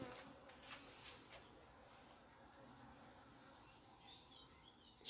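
Honeybees swarm around an external feeding site, a faint steady buzzing of many insects flying in and out, rising slightly toward the end with a few high chirps mixed in.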